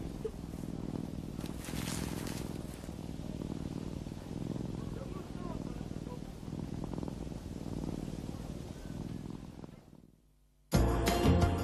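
A tame cheetah purrs close by with a low, steady rumble that runs on for several seconds before it stops.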